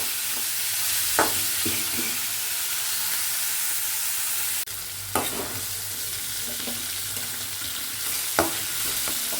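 Chopped capsicum cooks in oil in a pan for capsicum rice, giving a steady loud sizzle with a hissing wash throughout, broken by a few sharp stirring scrapes and a brief drop where a lid seems to shift.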